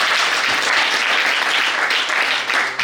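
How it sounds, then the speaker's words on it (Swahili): A crowd at a church ceremony of the EAGT applauds the president with loud, dense, continuous clapping that fills the whole moment without letting up. "Rais wetu Dr. Samia Suluhu Hassan, tumpigie makofi mengi."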